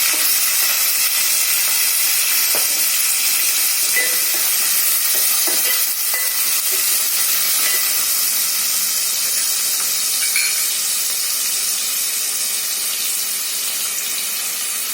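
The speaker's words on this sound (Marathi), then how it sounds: "हा चिरलेला कांदा टाकून घ्यायचा." Chopped onion fries in a pan of hot oil tempered with cumin, curry leaves and green chillies for soyabean curry, giving a continuous close sizzle with occasional stirring scrapes and no talking.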